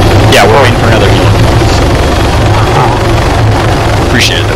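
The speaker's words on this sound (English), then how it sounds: "There's another helicopter." Loud, steady rotor and engine roar of a helicopter in a military video game, filling the whole clip up close, with faint radio-like voices over it.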